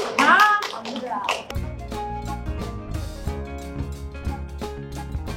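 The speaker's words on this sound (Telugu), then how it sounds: "అందరూ క్లాప్స్." A group of people at a kitty party claps together in a burst of brisk, overlapping applause after a brief shout, the claps continuing steadily and close by.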